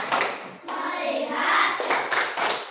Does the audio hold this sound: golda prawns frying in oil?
no